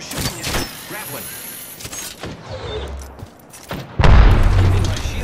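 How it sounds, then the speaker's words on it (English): Gunfire and booming impacts in a squad-based shooter video game, several sharp bursts and a heavy thud near the end, heard amid other game noise. "The enemies are shooting at me."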